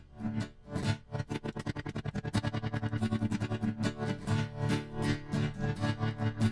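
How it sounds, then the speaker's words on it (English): A distorted electric guitar chord throbs with a fast, steady tremolo pulse, its volume rapidly swelling and dipping in a regular wobble. "this gives a real like throbbing, pulsating kind of sound"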